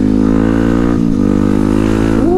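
A bored-up Yamaha WR155 motorcycle runs loud and close while riding, a steady buzzing engine drone that dips briefly and then rises as the revs climb near the end.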